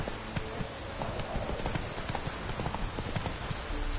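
Roach the horse galloping in a PS4 game, a steady run of quick hoofbeats close by, with a faint busy background layered underneath.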